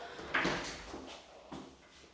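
A bathroom door in a newly opened Benidorm hotel room swings shut, giving a soft, close thud followed by a second, lighter knock a moment later, with no voices present.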